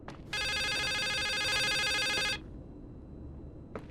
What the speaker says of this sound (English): Hear the phone ringing.